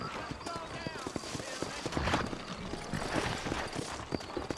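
Horse hooves clop in a quick, steady rhythm on hard ground in Red Dead Redemption while someone talks over them, with occasional creaks and scuffs.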